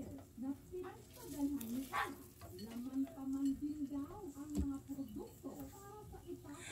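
Garlic stirred and frying in a pan for a spare ribs and vegetable stir fry, a steady sizzle with scraping strokes running under continuous talking throughout.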